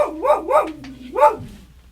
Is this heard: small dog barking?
yes